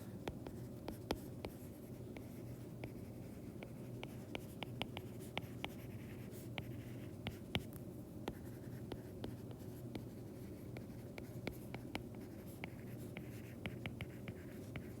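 Marker or chalk writing notes on a board during a physics lecture: quick scratchy taps and strokes in irregular bursts, close and fairly quiet over a low room hum, with no talking.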